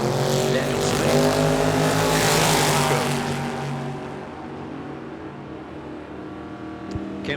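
A Chevrolet Camaro drag races down the track, a loud engine roar that builds and peaks early, then fades into the distance with faint crowd and ambient noise afterward.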